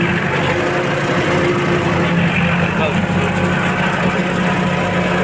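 A small petrol brush cutter engine drones steadily and loudly at close range, a continuous buzzing hum without pause.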